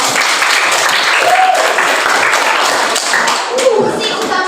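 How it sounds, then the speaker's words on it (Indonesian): Students in a biology class clap together for a correct answer, a dense burst of applause that fills the room, with faint voices mixed in. "Boleh tepuk tangan dulu."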